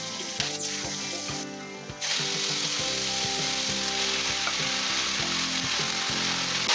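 Radish greens frying in hot oil, a loud, dense sizzle that swells after a brief quieter start, with repeated scraping and clinking of a spatula stirring in the pan, no voices.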